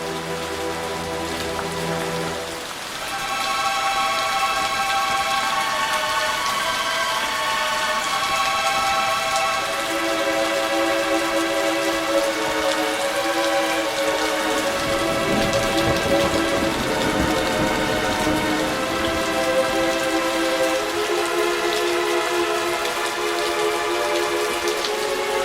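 Heavy rain hisses steadily in a stormy downpour, with low rumbles of thunder rolling through the middle. Sustained music tones play over the storm for most of its length.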